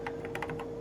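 Keys clatter on a Xerox Star computer keyboard, a short burst of several close, crisp keystrokes in an uneven rhythm, with no talking over them.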